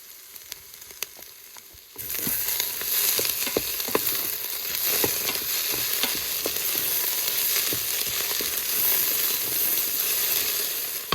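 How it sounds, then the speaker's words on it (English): Garlic and tomato paste frying with softened onions for a beef short rib stew, a steady close sizzle that starts abruptly and continues under light scraping and stirring. "we put in the garlic and the tomato paste, and we turn that all around"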